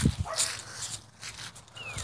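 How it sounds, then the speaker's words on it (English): Dogs barking beyond a backyard fence outdoors on a warm day: a couple of sharp barks at the start, then quieter whining and yips, moderately distant with no talking. "And there's some more dogs beyond your fence."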